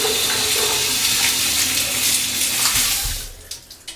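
Warm water from a tap runs steadily through a trombone being cleaned, a loud continuous splashing rush that thins out in the last second into a few brief drips and gurgles.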